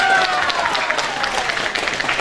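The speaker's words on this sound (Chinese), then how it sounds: "咱是甲咱的董事长拍鼓掌声鼓励一下" An audience at a Taiwanese-language Mother's Day event breaks into sustained applause for the company chairman, with a voice heard briefly at the start before the clapping continues throughout.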